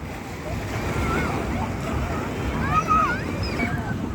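Sea waves roll onto the sand at Dubai Marina beach, JBR, as a steady wash of surf mixed with wind noise, with voices and bird calls faintly in the background.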